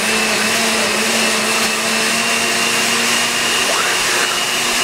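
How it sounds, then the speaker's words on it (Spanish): A kitchen blender runs steadily and loudly throughout, a continuous motor whine with a constant pitch and a dense broadband roar, close to the microphone and alone without talk. "va a ocupar más la licuadora, así que va a hacer un poco de ruido"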